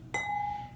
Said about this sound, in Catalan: Sona la campana, sona així